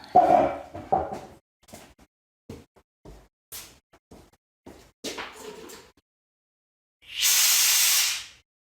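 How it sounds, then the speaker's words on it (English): An air compressor nozzle blasting loose sandpaper grit and debris out of a computer mouse: a single loud, sustained hiss of air lasting about a second, after scattered handling clicks and taps. "hit it with the compressor and got all that loose material out of there"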